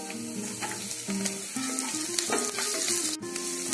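Garlic and green chillies fry in hot oil with cumin seeds, giving a steady, moderately loud sizzle with crackles and stirring scrapes, while a low tonal hum runs underneath; no one speaks.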